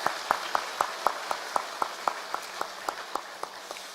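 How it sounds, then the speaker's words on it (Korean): A single pair of hands claps in a slow, even rhythm, about fifteen crisp claps, in a church during a Sunday morning service where the congregation is asked to applaud the teachers; a faint wash of other applause lies underneath. "이 시간 먼저 우리 교사들 위해서 큰 박수로 한번 응원해 주시고 감사하면 좋겠습니다."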